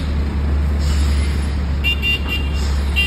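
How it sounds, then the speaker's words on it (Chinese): A taxi honks its horn in several short repeated toots on a steep, narrow road where large trucks and semi-trailers are backing up to make way, over a steady loud rumble of idling engines. "出租车狂摁喇叭"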